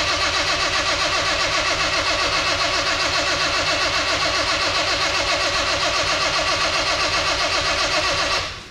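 A Triumph engine cranking and catching, a steady, fast mechanical chugging that runs loud and unbroken for about eight seconds before cutting off abruptly.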